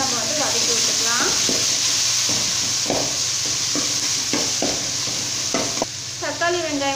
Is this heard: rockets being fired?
no